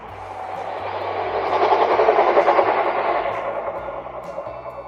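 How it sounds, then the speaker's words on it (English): A train rolls past near a canal in the countryside, a broad steady rumble that swells to a peak around the middle and then slowly fades, with low clattering wheel tones underneath. "I think we have a train."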